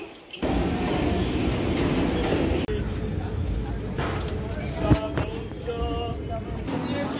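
An early-morning train rumbles steadily at a railway station on the way to Murshidabad. The continuous loud noise runs throughout with occasional clanks, and people talk over it.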